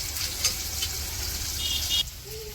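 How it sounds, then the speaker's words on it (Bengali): Onion and green chili fry in hot oil in a village wok, a steady close sizzle with light crackle, stronger in the first two seconds and then softening. "পেঁয়াজ আর কাঁচামরিচ দিয়ে দিল"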